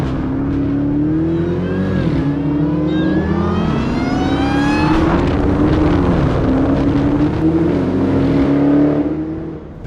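A 2018 Dodge Challenger SRT Demon engine roars loudly and steadily while driving, with rising revs climbing through gears and shifting, close and continuous with wind rush.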